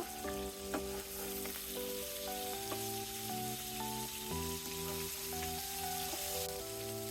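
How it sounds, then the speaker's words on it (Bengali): Snakehead (shol) fish pieces frying in oil over medium heat and being turned, a continuous quiet sizzle with occasional crackles, heard under background music. "এভাবে আমি উল্টে পাল্টে ভেজে নেব"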